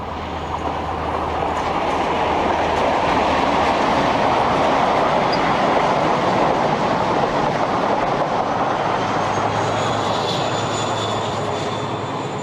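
A diesel high-speed train roars past along the seawall at Dawlish, a loud sustained engine drone and rushing wheel noise swelling and holding for several seconds.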